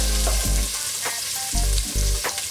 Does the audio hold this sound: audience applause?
no